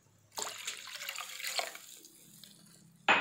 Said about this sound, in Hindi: अब हमने इसके अंदर पानी डाला है।